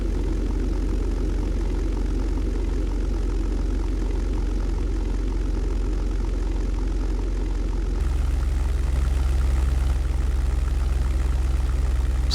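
Simulated P-51B Mustang piston engine and propeller droning steadily in flight in a European Air War game, a loud, continuous low roar that shifts slightly in tone partway through, with no talk.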